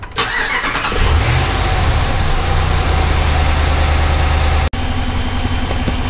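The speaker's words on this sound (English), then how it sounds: "So let's go ahead and start it up and make sure that the system is bled and there's no air pockets in it," A Dodge Ram 1500 with the 5.7L Hemi V8 cranks and fires up within the first second, then settles into a loud, close, steady idle with a low rumble. The idle carries on alone until the clip ends.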